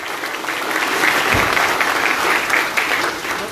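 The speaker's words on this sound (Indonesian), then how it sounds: "boleh kasih tepuk tangan yuk?" Audience applause at an Indonesian school talk show, steady dense clapping from a large crowd that swells briefly and holds for a few seconds, with no voices over it.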